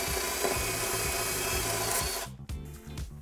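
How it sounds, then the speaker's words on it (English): Wire wheel on a power tool grinding paint off a car body around a bolt hole, a continuous harsh whirring scrape that cuts out near the end, leaving a few short bursts. "just wire wheel off some of the paint right around the hole that you're going to attach to"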